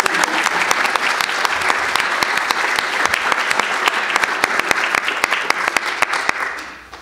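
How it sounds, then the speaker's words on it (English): An audience at a public talk on interpreting slavery at historic sites applauds loudly and steadily, with dense, sharp clapping throughout that fades out in the final moments. "So give him a round of applause."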